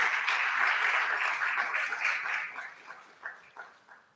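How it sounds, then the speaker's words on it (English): Applause from an audience at a board of education meeting, a crowd clapping steadily at moderate volume before thinning into a few scattered claps and fading out. "how about a nice round of applause for all the staff members who participated in that"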